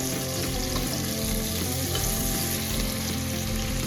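Onions frying over high flame in a pan for mutton curry, giving a loud, steady, continuous sizzle with faint stirring, with no speech.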